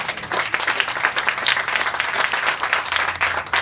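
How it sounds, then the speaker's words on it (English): A crowd at a building grand opening ceremony applauds steadily, with dense clapping sustained throughout at a loud, even level and no talking. "So let's give it up for one round of applause for God."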